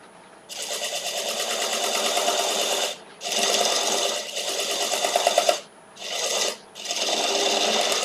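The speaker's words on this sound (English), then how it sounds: "And I'm pushing the gouge toward the headstock." A gouge cutting a small wood burl on a wood lathe, pushed toward the headstock, makes loud close rasping whirrs in several bursts separated by short pauses, no talk.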